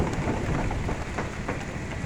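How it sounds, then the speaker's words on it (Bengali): Heavy rain pours down on a highway at a bus stand in Faridpur, a dense continuous roar of drops hitting the road and surfaces, steady and close with no pauses. "আপনারা যেমনটি দেখতে পাচ্ছেন যে বৃষ্টি হচ্ছে প্রচুর পরিমাণে"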